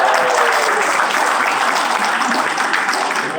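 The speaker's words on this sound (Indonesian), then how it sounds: "Tepuk tangan ini." A coaching seminar audience claps in dense, sustained applause, loud and continuous throughout, with no talk over it.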